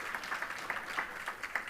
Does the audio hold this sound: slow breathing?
no